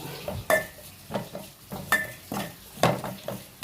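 Onions sautéing with salt in a pan for a fish curry, with repeated scraping and clanking of a utensil against the pan in an irregular rhythm over a faint sizzle, close and moderately loud.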